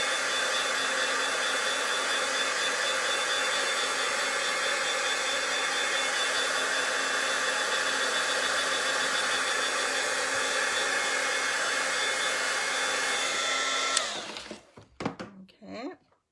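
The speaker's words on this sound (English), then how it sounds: "you're gonna make sure you have a heat gun close by" A heat gun blows steadily for about fourteen seconds, drying ink on paper during a card-stamping session, then cuts off abruptly, followed by a few short handling knocks.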